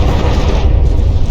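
Heavy mortar shells from the battleship Divine Offering slam down in the From the Depths naval battle, a dense continuous rumble of low booming impacts, loud and close, with no talk over it.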